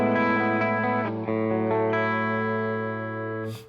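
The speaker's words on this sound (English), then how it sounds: "that diode overdrive is the free overdrive that comes with the free version of AmpliTube" Electric guitar through a diode overdrive effect in amp-modeling software, a single distorted chord ringing out thick and sustained with a shift partway, then cut off abruptly.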